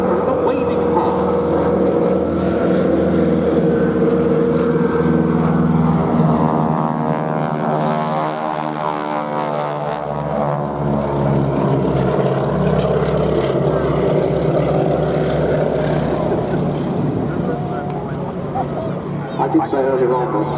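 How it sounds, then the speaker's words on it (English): Propeller aircraft flown by the Breitling wingwalkers at an airshow, making a low waving pass: a loud, continuous engine drone that swells and shifts pitch as it goes by, with a commentator talking over it throughout. "she's in the lead aircraft of this pair, coming past once again for another waving pass"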